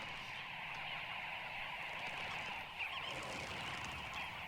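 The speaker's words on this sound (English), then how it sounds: "The noise and bustle of dozens of birds coming and going" Dozens of birds in a noisy African flock calling and flapping as they come and go, a dense continuous chatter of honks and squawks at steady loudness throughout.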